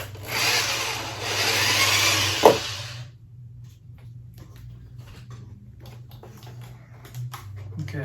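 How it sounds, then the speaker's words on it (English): A power drill whines steadily for about three seconds up close, drilling 1/4 inch holes in a fiberglass template, then stops, leaving a low hum and scattered faint handling clicks. "I'm going to get my drill and go ahead and drill some 1/4 inch holes in my template."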